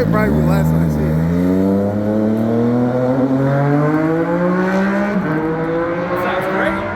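A motorcycle engine revving loud and close, a continuous rising-then-settling roar with shifting pitch that holds throughout, alone without talk.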